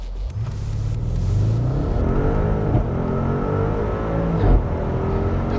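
Audi RS6 on a wet road pulling away at full throttle, its deep engine roar climbing in pitch through gear changes, loud and close with a brief thump partway through and no voices.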